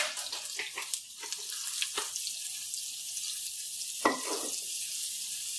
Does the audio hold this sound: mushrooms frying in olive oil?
yes